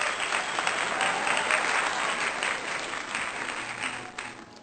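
Steady, dense audience applause at a children's prize-giving for a clay-modelling competition, filling the whole stretch and tapering slightly toward the end.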